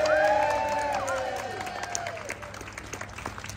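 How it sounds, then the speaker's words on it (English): A crowd at a Back to the Future cosplay competition in Blackpool applauds a contestant, dense clapping and cheering that fades over a few seconds, with faint music tones at the start. "Every single person in the room clapping there, Ollie"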